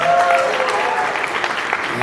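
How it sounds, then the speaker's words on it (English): Audience applause at a pageant, a dense steady patter of many hands clapping throughout, fairly loud, with a voice talking over it near the start. "Another round of applause, guys."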